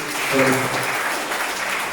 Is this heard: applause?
yes